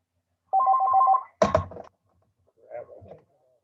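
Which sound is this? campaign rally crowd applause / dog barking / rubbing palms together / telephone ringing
telephone ringing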